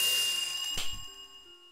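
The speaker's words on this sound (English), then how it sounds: "Well, what does the bell do?" The bell item in the video game Baldi's Basics gives one short, faint, bright ring with a lingering metallic tone that holds and then fades.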